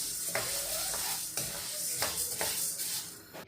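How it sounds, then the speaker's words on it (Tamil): Urad dal roasting and being stirred in a pan, a steady dry sizzle broken by several scraping strokes of a spoon against the metal, close up with no talk. "இப்போ பார்த்தீங்கன்னா உளுந்து நல்லா வறுபட்டுட்டுது பாருங்கள்."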